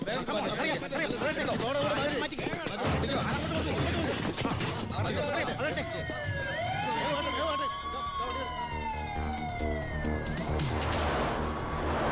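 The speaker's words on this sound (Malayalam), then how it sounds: "ഏത് നിമിഷം അവിടുന്ന് ഫയർ എഞ്ചിൻ വരും" A fire engine siren wails with rising and falling sweeps for several seconds in a tense film scene, heard over people talking and busy background clatter.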